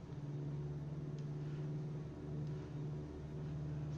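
Twin radial engines of a Beech 18 aircraft throttling up to 2,000 RPM on an approach, a steady loud drone with a strong low hum that holds evenly throughout, no voices.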